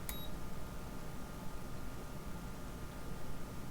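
A multimeter gives one short, sharp electronic beep at the start while testing a capacitor in a small amplifier, then steady faint background hiss.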